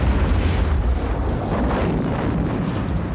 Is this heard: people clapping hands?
no